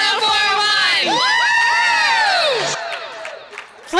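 Crowd at a broadcasting association award ceremony cheering for Station of the Year, with loud whoops, shouts and applause swelling together, then fading toward the end.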